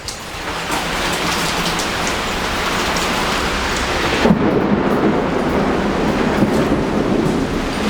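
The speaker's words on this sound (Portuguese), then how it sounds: "chovendo granizo aqui," A hailstorm with rain roars as a dense, loud wash of noise, with a deep rumble of thunder swelling near the middle and continuing under the steady downpour.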